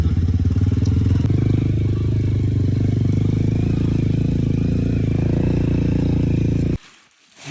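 A motorcycle engine labours steadily uphill on a mountain trail in Lamjung, Nepal, running loud and close for several seconds before cutting out abruptly near the end.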